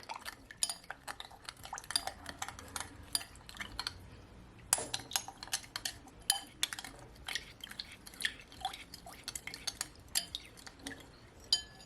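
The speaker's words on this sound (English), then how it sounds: "You want to mix it all in." Cornstarch being stirred into a noodle stir-fry sauce, quick irregular clinks and scrapes of a utensil against a bowl, close and fairly quiet with no voices.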